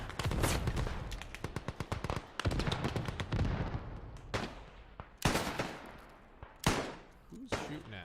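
Rapid gunfire in the multiplayer war shooter Beyond the Wire: dense bursts of sharp cracks and rattling automatic fire, loud and close, then several heavy single booms that ring out.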